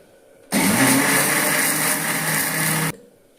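Electric grinder whirs loudly and steadily for about two and a half seconds, grinding lentils with green chillies and pieces of ginger for pakora batter, starting and stopping abruptly.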